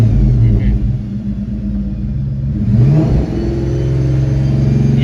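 A 2003 Ford Mustang Cobra engine rumbles at steady idle, then the throttle is blipped and the revs rise into a sustained louder roar, close up.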